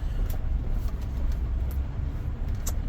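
A four-wheel-drive vehicle churns over wet, soft ground, a steady low engine rumble running the whole time with occasional faint splashy crackles.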